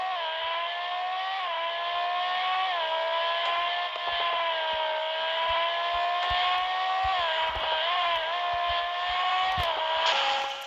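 Ferrari sports car engine in the mobile game Racing in Car 2021, heard from the driver's seat, droning as a steady tonal whine that rises and dips with shifts and throttle, punctuated by faint clicks and knocks.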